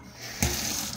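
Tap water in a hotel room in Tbilisi, Georgia abruptly starts running partway through, a steady close rush that keeps flowing to the end.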